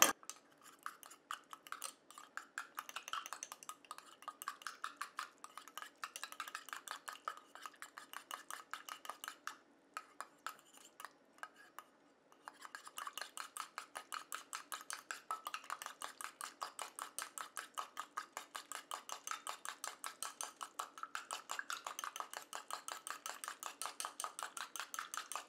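An anti-wrinkle lifting serum is stirred in a small container, a steady run of quick scraping and clinking strokes that pauses briefly midway and then resumes at the same even pace.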